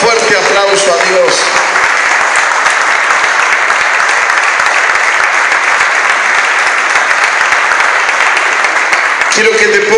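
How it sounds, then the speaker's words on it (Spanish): Church congregation during a Spanish-language sermon giving loud sustained applause to God, a dense, close wall of clapping with voices mixed in, steady for the whole stretch. "Denle un fuerte aplauso a Dios."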